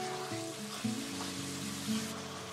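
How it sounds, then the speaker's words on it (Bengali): Tomato paste added to a large frying pan for a big batch of vegetarian ghugni gives a low, steady sizzle with a couple of soft bumps, under background music. "এই যে আরো কিছুটা টমেটো বাটা দিয়ে দিচ্ছি।"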